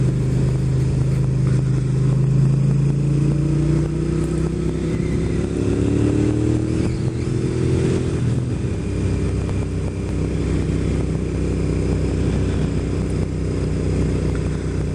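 A motorcycle engine drones steadily nearby, its pitch rising as it revs up and then settling into a constant running hum.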